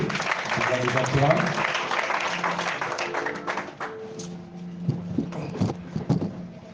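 A church congregation applauds during an evangelism weekend sermon in Matam, with dense clapping that tapers off, and speech continuing over and after it.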